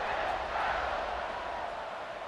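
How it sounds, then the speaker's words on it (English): A stadium crowd in EA Sports College Football 26 keeps up a steady, broad buzzing roar after a score, moderately loud and unbroken, with no voices standing out. "this crowd is buzzing after that last score"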